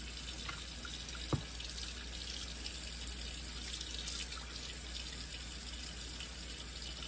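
A faint, steady stream of lukewarm tap water runs continuously, with a single small knock partway through.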